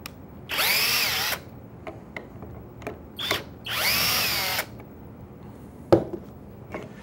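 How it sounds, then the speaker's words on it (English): A power drill backs pocket screws out of a wood joint in two sustained whirring bursts, each about a second long, close and loud, separated by clicks and knocks of handling the workpiece. "you can easily back the screws out to disassemble a part"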